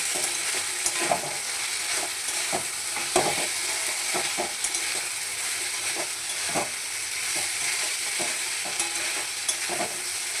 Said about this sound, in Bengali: মোচাগুলো এর সাথে ভালো করে নাড়তে হবে, যাতে এগুলো একটু নরম নরম হয়ে ভাজা ভাজা হয়ে যায়।